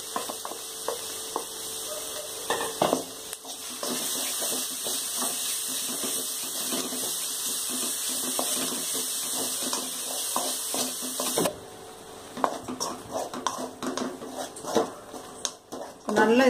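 Ground jaggery paste fries and sizzles in a pan over a medium flame while being stirred for Tamil ginger thuvaiyal, a steady hiss with scraping and clinks of the spoon against the pan throughout.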